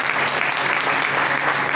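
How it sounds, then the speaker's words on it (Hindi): An audience at a gathering claps together in dense, continuous applause, loud and evenly sustained throughout. "ये तालियां"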